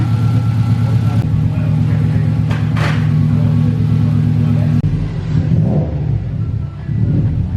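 A Subaru WRX with a Stage 2+ setup runs just after a new transmission install, its engine rumbling steadily and close by with a brief rev, while people talk over it.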